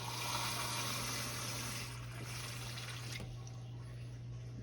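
Water pours steadily into a water bath set around ramekins of old-school crème brûlée, a continuous close splashing and trickling with a low hum beneath, easing slightly partway through.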